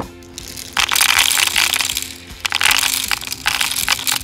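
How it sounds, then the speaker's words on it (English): Airsoft BBs poured and rattled into the extended magazine of a full-auto Uzi BB gun, loud clattering bursts of small plastic pellets in several pulses, close up with no talk. "We're gonna go ahead and load some BBs in there."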